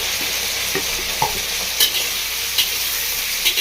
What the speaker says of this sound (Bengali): পেঁয়াজের কুচি করে দিয়ে আরও ভালো করে ভেজে নিচ্ছি।